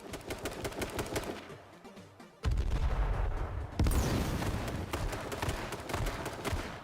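Gunfire from the video game H1Z1 King of the Kill rings out in rapid sprays of sharp shots, with a quieter stretch before louder, denser bursts of automatic fire continuing to the end.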